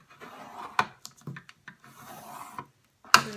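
A tool scores fold lines into cardstock panels for a handmade shadow box, giving short close scratchy rubbing strokes with brief pauses and a sharp final scrape.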